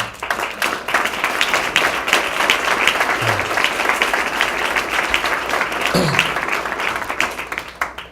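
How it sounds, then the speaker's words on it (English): An audience at an Ogilvy Culture event claps for its leaders, dense and continuous applause filling the room at a steady level throughout. "you guys can give them a clap as well"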